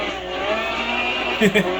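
Ford Mustang SVT Cobra R engine in Gran Turismo 5, a steady droning race-car hum with a couple of short rises near the end, continuous and fairly loud.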